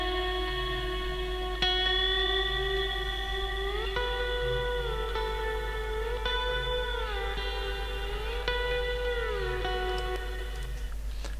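A lap steel guitar drenched in reverb plays slow, sustained notes that bend and slide smoothly between pitches, with soft picked attacks and long ringing tails, alone and haunting in tone.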